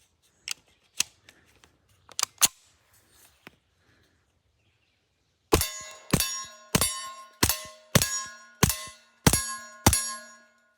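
A suppressed braced 9mm pistol fires subsonic rounds. After a few scattered metallic clicks and handling sounds come nine sharp, evenly spaced shots, each a crisp crack with a metallic ring, loud and close with no talking.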